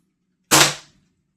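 Feinwerkbau 300S vintage German match air gun fires a single crisp, close pop that decays quickly into silence.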